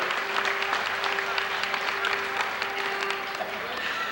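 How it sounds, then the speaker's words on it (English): Sustained crowd applause at a Star Trek Adventure show at Universal Studios, dense steady clapping filling the space for several seconds, with a faint hum beneath. "How about a round of applause"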